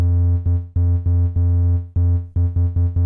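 A simple triangle-wave synth pattern from the Bitwig Studio Polygrid plays a loud, buzzy low tone in repeated staccato notes with short gaps, rhythmic and close, with no talking.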